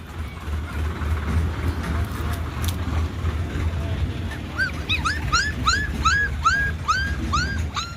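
Puppies whimper and yelp in a rapid run of short, high, rising cries near the close, rising over steady low rumble and background noise at a plastering work site.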